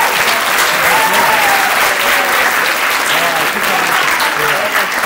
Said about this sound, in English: Applause for each and every one of you.